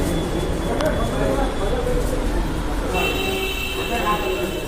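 An underground metro train running, a continuous rumbling rail roar with metallic squeal tones, loud and steady throughout, with voices in the background.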